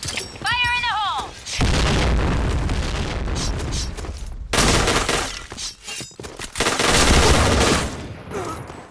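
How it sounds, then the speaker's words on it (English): Grenade blasts and gunfire in the shooter game Point Blank: booming explosions and a clattering fusillade come in bursts across the clip, with a short chirping tone at the start and game voice lines over the battle noise. "Fire in the hole."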